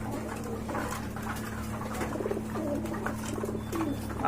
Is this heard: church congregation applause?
no